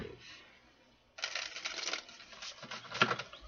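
A deck of cards being shuffled by hand at a reading table, a soft riffle burst building midway then fading, quiet and close with small clicks toward the end.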